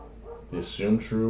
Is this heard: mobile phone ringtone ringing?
no